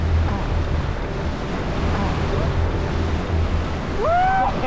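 A rushing glacial mountain river tumbling stones along its bed roars loud and close without letup, mixed with wind buffeting, and a brief faint higher sound near the end.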